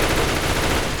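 Rapid, continuous gunfire from a video game fills the whole second-long stretch, loud and dense like a sustained burst of automatic fire.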